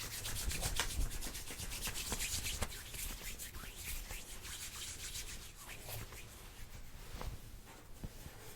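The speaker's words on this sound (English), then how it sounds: "So I'm going to first let you use some hand sanitizer, please." Hands rubbing in hand sanitizer, a close, intimate swishing and friction texture that runs continuously with a soft, even rhythm throughout.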